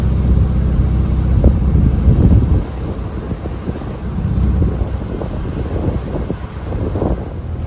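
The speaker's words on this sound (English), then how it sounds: "We've still got about 10-15 knots of wind" Steady wind buffets a small sailboat passing through the Snell lock on a 10 to 15 knot day, a loud continuous rumble across the microphone with gusty swells and faint knocks, no voices.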